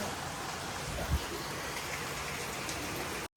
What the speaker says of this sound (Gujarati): હા વરસાદ ચાલુ છે